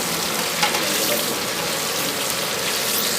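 Green chilies and potatoes frying in a large pot of vegetable curry being cooked for 200 people, giving a steady, close hiss and crackle of hot oil that holds level throughout with no voices.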